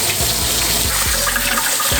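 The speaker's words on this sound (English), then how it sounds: "rinse with cold water." Cold tap water runs steadily and loudly, splashing over noodles in a kitchen sink during rinsing for Korean cold ramen, with a few soft knocks in the stream.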